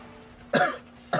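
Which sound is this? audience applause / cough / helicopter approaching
cough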